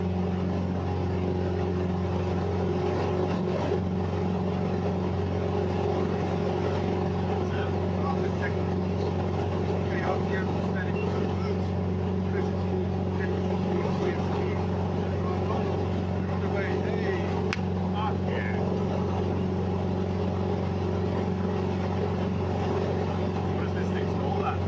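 A light aircraft engine drones loud and steady through a takeoff roll on runway 16 in the Australian outback, with a constant propeller hum and no clear change in pitch. Speech-like sound may sit under the engine.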